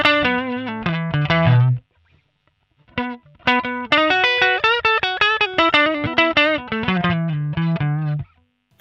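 Electric guitar played through a NUX MG-300 modeler with GarageBand master echo, distorted chorused notes and chords in two phrases separated by a short pause, the echo trailing after each.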